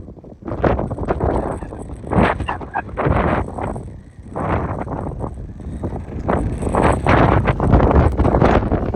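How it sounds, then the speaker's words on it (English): Gusty outdoor wind buffets the microphone in loud, surging waves that swell and ease over several seconds, with a faint rustle in the background during an RC car speed run. "the wind is picking up too"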